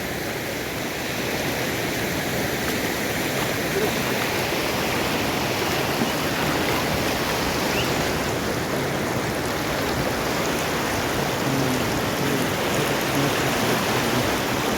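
Constant rushing of water with rain falling over it, a dense, even hiss that never lets up.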